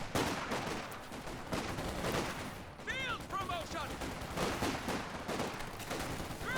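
An AEC armoured car fires in the real-time strategy game Company of Heroes 2 during a competitive match. Bursts of gunfire and battle noise run steadily beneath a commentator's voice.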